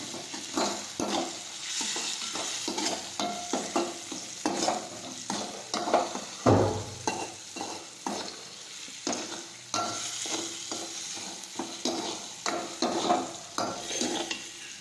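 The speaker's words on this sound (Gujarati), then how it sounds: "જીરું નાખીશું મીઠું નાખીશું હવે ફરી પાછું સાતરી દઈશું" Moraiya khichdi sizzles in a pan as cumin and salt are added, with repeated spoon stirring and scraping against the pan in a steady rhythm.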